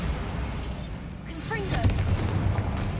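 Bombarda blasting spell in the Hogwarts Legacy video game: a booming burst with rumbling low end and a swooping magical whoosh in the middle, amid a dense game soundscape.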